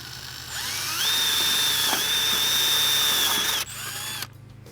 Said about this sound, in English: And so now I'm going to drill the hole.